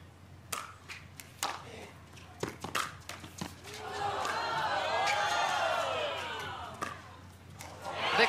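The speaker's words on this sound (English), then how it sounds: "The crowd is oohing and aahing." Spectators at a professional pickleball match on Championship Court swell into a rising, sustained ooh and aah of excitement after a rally, following sharp paddle pops and thuds, then fade back toward scattered noise.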